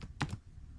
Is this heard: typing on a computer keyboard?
yes